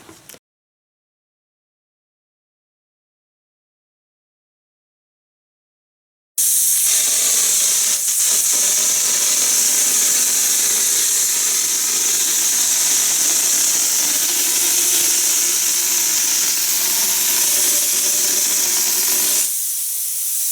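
Compressor-fed hopper texture gun spraying orange peel drywall texture, a loud continuous hiss of air and spray that starts abruptly after silence and holds steady for about thirteen seconds before cutting off.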